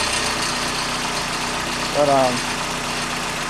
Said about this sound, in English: the engine runs a little smoother since it's been running a little bit